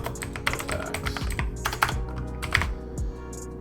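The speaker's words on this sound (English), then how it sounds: "Apologies if my keyboard is pretty loud for you guys." Close, clacky typing on a computer keyboard, with quick irregular keystrokes and no talking.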